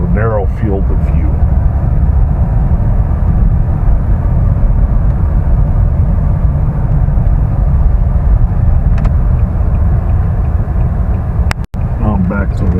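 Car driving, recorded on a Firefly 8s action camera: a steady loud low rumble of road and engine noise with wind buffeting throughout, someone talking over it, and a sharp click near the end.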